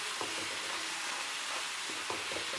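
Chopped ripe tomato cooking in hot oil with onion for a cashew paneer curry, giving a steady broad frying hiss with faint stirring scrapes underneath and no talk.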